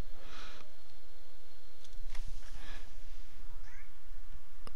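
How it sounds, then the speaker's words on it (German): A small kitten on a floor meows wildly and repeatedly, with sniffing between the cries, close by and alone without talk. "So ein kleines, unschuldiges Kätzchen hinter mir am Boden und wild miauend."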